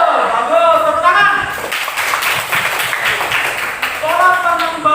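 A classroom of students claps briefly for a classmate, a short burst of clapping for about two seconds between a teacher's spoken remarks.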